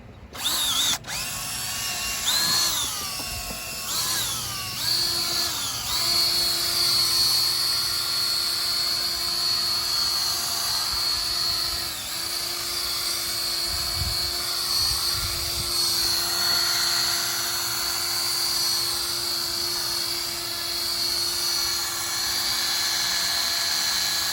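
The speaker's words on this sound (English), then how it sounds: "we're just going to use this drill, this buffing pad" A power drill spinning a buffing pad on a foggy car headlight whines at high speed, revving in short bursts at first, then spinning steadily with a shrill, buzzing tone.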